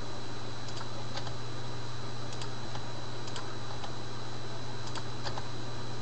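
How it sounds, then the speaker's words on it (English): Keywords are typed on a computer keyboard, giving sparse light clicks in small clusters over a constant loud hum and hiss. "Or you can just type them in."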